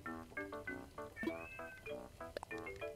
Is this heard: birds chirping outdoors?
no